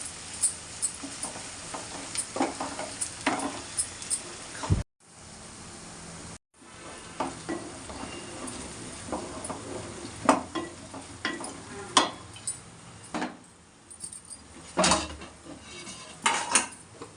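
Mutton cooking with tamarind leaves in a pan: a close, continuous sizzle broken by repeated scrapes and clinks of a metal spoon stirring against the pan, with two brief silent gaps and no talk.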